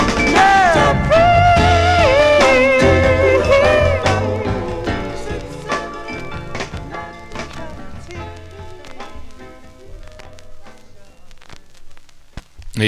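Sixties soul record playing, with a vocal line over a band that fades down toward the end, fairly loud and full.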